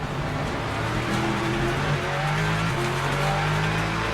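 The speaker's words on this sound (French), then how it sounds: "Ouh, j'ai fait une freinage trop tard." A race car in the sim racing game Le Mans Ultimate roars loudly and steadily as it brakes too late into a corner, with a faint squeal of tyres under the engine note.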